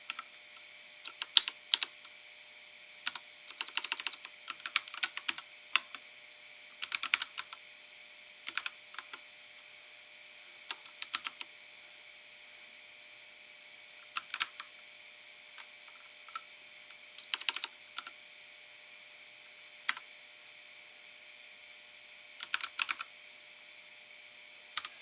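Typing on a generic computer keyboard during Linux Mint desktop work, quiet irregular bursts of clicking keystrokes separated by pauses, close and faint with no talking.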